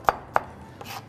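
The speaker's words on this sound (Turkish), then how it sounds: "Soğanımızı ince ince doğrayalım ki içinde çok fazla belirgin verilmesin." An onion is chopped finely with a knife, giving two crisp, sharp knocks close together and then a softer third tap, close and clear with no talking.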